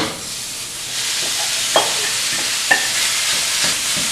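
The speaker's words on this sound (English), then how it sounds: "we're going to add in the minced ground beef" Minced ground beef browns in a hot skillet over medium-high heat, giving a loud, continuous sizzle with a few scattered clicks and scrapes of stirring.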